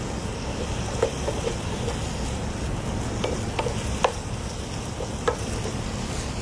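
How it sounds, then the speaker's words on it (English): Mushrooms sautéing in a hot pan on raised heat, a steady low sizzle with a few soft stirring clicks and utensil taps scattered through, no talking. "I'll just increase the heat again, and I'll quickly saute these"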